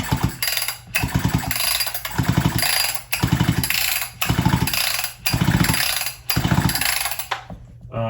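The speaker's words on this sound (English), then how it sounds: "I'm just going to give it some strokes to hopefully create enough pulse below the piston to drive the diaphragm on the carb" 262XP chainsaw engine with the spark plug removed being pulled over by its starter cord, about eight rhythmic bursts of fast ratcheting whirring, each separated by short pauses, loud and close.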